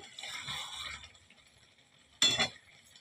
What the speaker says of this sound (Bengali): আমি এটা ঢাকাটা খুলে দিচ্ছি